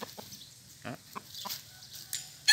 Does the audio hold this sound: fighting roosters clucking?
yes